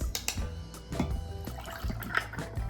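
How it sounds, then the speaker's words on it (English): A mocktail poured over ice in a glass, heard as close liquid splashing and gurgling with clinks and small knocks of ice cubes. "so I'm gonna pour this over ice."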